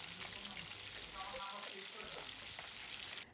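Chicken pieces frying in a pan, a soft, steady crackling sizzle with a few faint clinks, fairly quiet and unbroken.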